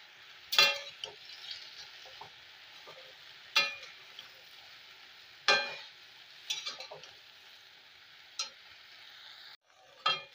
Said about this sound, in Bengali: এটাকে আমি 4-5 মিনিট মতো নেড়ে চেড়ে নিয়েছি।